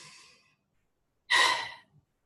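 A deep breath, a soft inhale trailing off, then after a short pause a loud, strong exhale sighed out close up, fading to silence.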